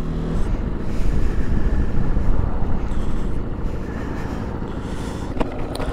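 A Ducati Multistrada V2S motorcycle cruising at half throttle, its engine a steady, continuous drone buried under heavy wind rush, with a brief sharper burst near the end.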